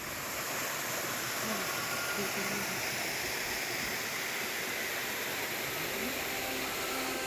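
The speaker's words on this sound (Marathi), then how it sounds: "बाजूनी खळखळतं वाहणारं पाणी आहे" Water rushes steadily along a stream beside a road through dense forest near the Yana caves, a continuous close wash of broadband noise with no break from start to finish.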